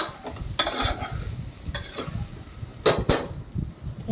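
Bitter gourd frying in a pan with sesame powder, a steady low sizzle under scraping stirs and a few sharp utensil clinks against the pan.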